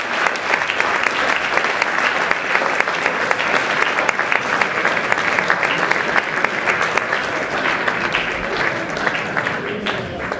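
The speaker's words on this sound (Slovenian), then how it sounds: "En velik aplavz, Katja Požun" A large audience applauds steadily and loudly for ski jumper Katja Požun at a sports awards ceremony, dense clapping sustained throughout with no pause.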